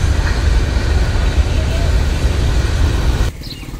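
A train passes by near fields as a steady, loud rumble. The noise drops off abruptly near the end.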